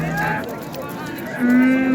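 Cows at the Baliqchi cattle market moo in two close, low calls, the second longer and louder, with faint market background noise behind them.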